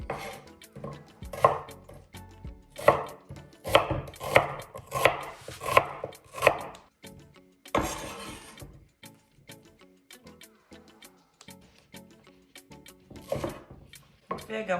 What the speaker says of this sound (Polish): Czas na małą cebulkę. Ja ją pokroję również na takie troszeczkę większe kawałki.